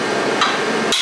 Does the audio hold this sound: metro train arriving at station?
no